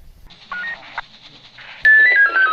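A telephone rings at a police dispatch centre: electronic ringtone tones repeat over a faint hiss, growing louder near the end with a rising run of beeps.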